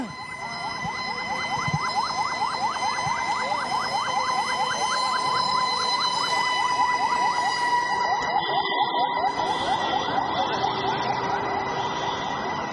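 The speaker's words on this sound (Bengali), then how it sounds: "এরই মধ্যে ফায়ার সার্ভিসের আরও একটি ইউনিট ঘটনাস্থলের দিকে প্রবেশ করছেন।" A fire service vehicle siren wails repeatedly and loudly as it arrives at a fire at Shahjalal Airport, rising and falling in fast regular cycles over engine and traffic noise, then shifting pitch near the end.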